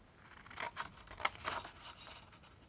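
Scissors cut paper for a pop-up birthday card with a drawer: a quiet run of crisp snips, about a dozen short strokes in an uneven rhythm, close up with no talking.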